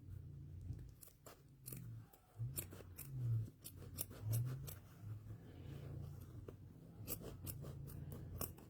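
Scissors snip through fabric while cutting pieces for an easy quilt block, making a steady run of close, crisp, repeated cuts with a dull edge and uneven rhythm.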